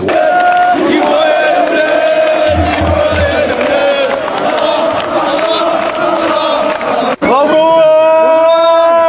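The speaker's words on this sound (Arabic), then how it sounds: "الاستاد كله مغاربه، كله مغاربه بيشجعونا" A packed stadium crowd of Moroccan fans roars loudly and continuously in support of Egypt's national team, a dense wall of cheering and chanting with a brief drop near the end before the noise surges back.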